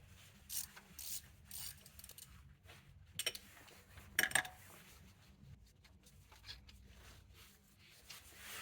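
A ratchet fitted with a triple square bit and extension clicks in short bursts while removing the belt tensioner on a 2006-2015 Audi Q7 supercharger, faint and close with quiet gaps between strokes.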